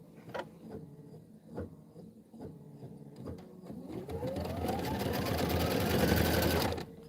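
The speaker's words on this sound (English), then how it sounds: "You can see where it's going to start stitching." An embroidery machine stitches a snowman block for a Kimberbell Let It Snow 22-inch pillow. Sparse clicks and needle taps give way to a steady, loud, rhythmic mechanical whirring that builds and holds until near the end.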